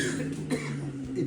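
A single soft cough, faint and close, rises over low background hum during a pranayama breathing session in a yoga class.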